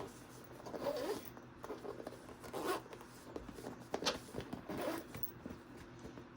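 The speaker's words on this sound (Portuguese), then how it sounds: "Já vem jogando o zíper para baixo e modelando." Quiet, repeated zipper rasps, short zips at irregular intervals close to the microphone, with faint handling noise between them.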